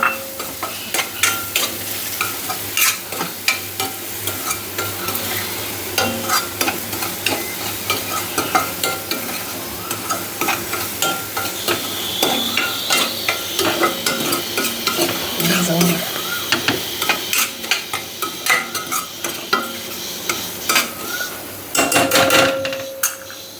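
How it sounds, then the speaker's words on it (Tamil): Semolina and grated coconut roasting in ghee for Chettinad ukkarai, stirred steadily with repeated scraping taps of a spoon against the pan under a soft continuous sizzle, close and fairly loud with no talking. "வறுத்த உடனே நம்ம எடுத்து வச்ச இந்த தேங்காயும் போட்டு நல்லா வறுத்துடணும்"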